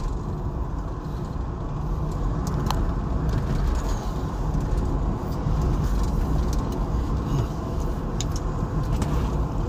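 Steady low car engine and road rumble from inside a moving car, continuous and fairly loud with no clear speech over it.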